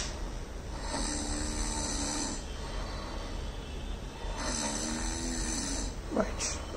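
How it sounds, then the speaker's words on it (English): A sleeping person snoring near a smart pillow, two long rasping snores several seconds apart over a steady background hiss, with a short sharp noise near the end. "only the snoring."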